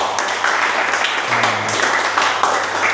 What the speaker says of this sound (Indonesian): Beri tepuk tangan dong semuanya.